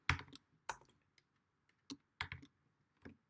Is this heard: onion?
no